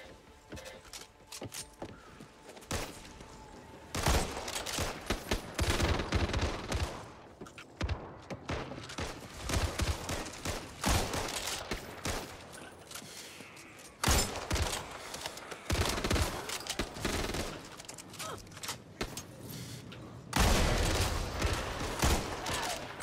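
Assault rifle fire in the co-op zombie shooter Back 4 Blood comes in repeated loud bursts of rapid shots with thumps and mechanical clatter, separated by short quieter gaps across the whole stretch.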